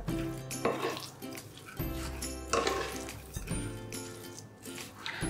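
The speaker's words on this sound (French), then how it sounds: "Bien mélanger, que le riz absorbe bien les épices." Basmati rice with spices being stirred in a pot, a spoon scraping and clinking against the metal in irregular bursts, close and fairly quiet.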